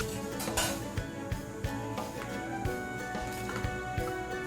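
Ground spice paste going onto fish pieces in a cooking pot for fish soup, with repeated metal spoon clinks and scrapes against the pot in an uneven rhythm, close and clear, with no talking.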